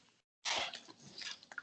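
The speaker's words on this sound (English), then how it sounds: "Welcome back to Ice Crunching ASMR." Ice crunches right at the microphone, as a short sharp bite is followed by a run of crackling, grinding chews.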